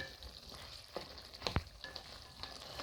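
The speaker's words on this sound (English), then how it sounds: "So our beef stew is here cooking well." Homemade beef stew cooking in a pot, a soft steady sizzle and bubble with scattered small clinks and a brief stirring scrape near the middle, faint and close, with no talk.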